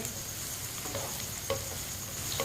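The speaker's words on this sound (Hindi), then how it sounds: "अब इसे 3-4 मिनट के लिए ऐसे ही चम्मच चलाते हुए फ्राई कर लेंगे।" Ridge gourd fries in a pan and a spoon stirs it now and then, a steady low sizzle with a few faint scrapes and taps from the spoon, no voices.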